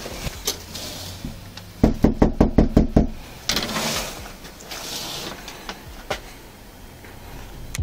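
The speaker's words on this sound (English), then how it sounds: "After knocking on the door and announcing themselves multiple times" Police officers knock on a house door, a tight burst of about eight rapid, firm knocks. It is followed by fainter indistinct rustling and background noise.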